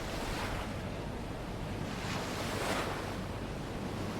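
Steady roar of surf with waves washing in continuously, mixed with gusty wind buffeting the microphone; no voices.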